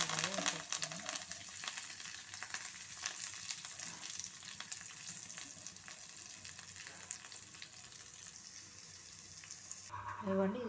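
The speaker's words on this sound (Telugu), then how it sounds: "ఇవి వేగుతున్నాయి కదా, వేగుతున్నప్పుడే మనము తరిగి పెట్టుకున్న పచ్చిమిరపకాయలు వేసేసుకున్నాం" Mustard seeds, cumin and green chillies fry in hot oil with a steady, dense sizzle and crackle, close and continuous, with a faint clink near the end.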